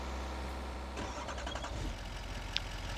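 A truck engine starts up in a farming video game, turning over and settling into a steady mid-pitched rumble against a constant background drone, with no talking.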